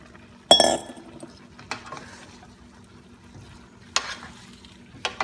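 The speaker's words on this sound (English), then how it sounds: "Let's give it a good stir. And we'll put our bitter melon." Pork belly and bitter melon are stirred in a hot pan, a soft sizzle broken by a few sharp clinks and scrapes of the utensil against the metal, close and quiet otherwise.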